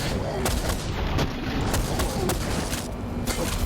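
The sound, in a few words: shotgun firing in video game SPRAWL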